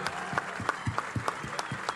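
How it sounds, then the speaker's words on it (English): Faint, evenly paced handclaps tap out a rhythm at the opening ceremony of the WRC Rally del Paraguay 2025, heard quietly and without talk. "A big applause to you."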